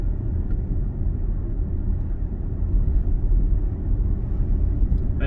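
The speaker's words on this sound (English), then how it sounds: "can you hear that engine noise now under heavy acceleration?" A 2020 Alfa Romeo Stelvio Lusso TI engine pulls under heavy acceleration, giving a steady, loud low rumble with a dense drone filling the cabin and no voices over it.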